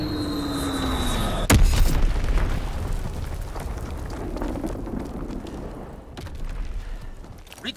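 A single heavy blast from a bombing run in the wartime shooter Call of Duty WWII bursts out early, then a dense roar of rumbling explosions and battle noise carries on to the end.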